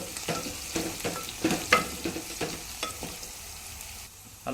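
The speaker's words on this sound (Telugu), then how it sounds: "వేసుకుంటూ అట్లా మాడకుండా అడుగంటుకుంటూ తిప్పుకుంటూ ఉండాలి ఫ్రెండ్స్." Carrot pieces with salt and turmeric being stirred in a pan for a vegetable curry, rhythmic scraping strokes of a utensil over a soft sizzle, close up and with no voices.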